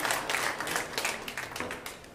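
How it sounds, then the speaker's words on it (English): Applause from the crowd at the final of a 10-ball pool open, a steady wash of clapping heard from a distance at moderate volume with no voices over it. "that applause is cheering him on"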